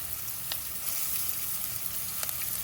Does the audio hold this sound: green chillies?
yes